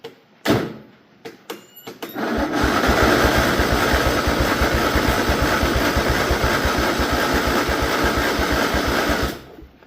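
Old lawn mower that sat unused for 13 years, with a faulty carburetor: a few sharp pull-start clunks, then the small engine catches and chugs in a rapid, uneven rhythm for several seconds before cutting out.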